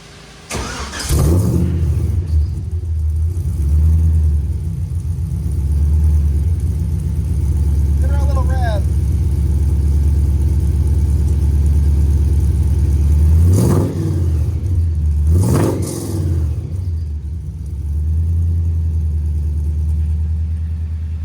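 Stock car with stock exhaust, engine cranking and firing up, then settling into a steady idle with a few sharp revs, loud and close throughout.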